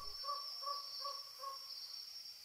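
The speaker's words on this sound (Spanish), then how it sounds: "El canto de los grillos en la hierba alta te saludó" Crickets chirp steadily in tall grass, a continuous high trill with regular pulsing chirps underneath, soft and moderately near, with a faint bird call mixed in.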